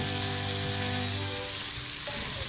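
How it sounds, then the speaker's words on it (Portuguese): Banana and parmesan cheese fry in butter in a pan, giving a close, steady sizzle with a faint hum underneath and no speech. "Bota o queijo para fritar também."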